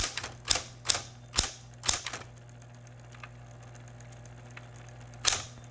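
Manual typewriter keys strike in uneven bursts of sharp, loud clacks, several close together early on, then a long quiet pause over a steady low hum before a final cluster of strikes.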